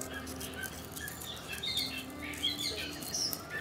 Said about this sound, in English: that beautiful songbird, whatever that is